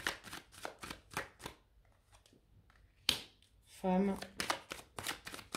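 Tarot cards shuffled and drawn by hand in a series of quick, crisp riffling bursts, with a short pause and a voice speaking briefly in the middle.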